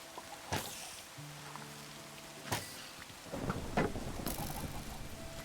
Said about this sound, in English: then you hear the thunderstorm